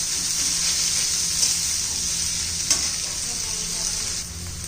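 Two medium-sized onions frying and being stirred in a pan for rajma masala, giving a steady, close, loud sizzle with a few brief stirring scrapes and no talk.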